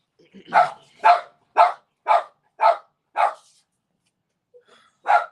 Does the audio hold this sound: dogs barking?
yes